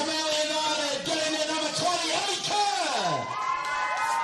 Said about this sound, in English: We got a rousing applause from the fans who are super happy to see the substitute get on the score sheet